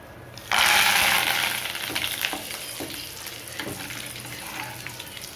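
Curry leaves drop into hot oil for chicken 65 with a sudden loud sizzling burst that gradually settles into steady frying crackle with faint stirring clinks, no voices.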